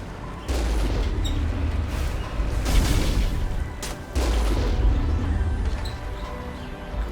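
Gunfire and heavy blasts in the sci-fi shooter Mass Effect: dense, loud bursts of shots and booms roll on almost without pause, swelling in a few stronger volleys.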